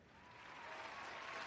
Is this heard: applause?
yes